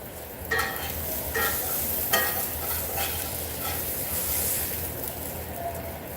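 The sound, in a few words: melty cheese sizzling in a frying pan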